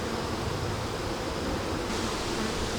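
Honeybees buzz around a beehive in a dense, steady hum, close and continuous with a soft noisy wash and no voices.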